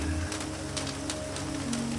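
Rain falling steadily over a city, a soft hiss with a few brief pattering bursts and a low, constant hum underneath.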